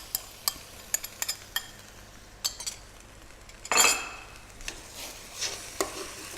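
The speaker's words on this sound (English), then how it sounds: "Once it's well evaporated, we can add our last ingredients, which is the diced tomato." Diced tomato goes into a pan of simmering peperonata for prosciutto-wrapped chicken. A utensil clinks lightly against the pan several times, and one brief louder scrape-and-splash of stirring comes up close over a faint sizzle.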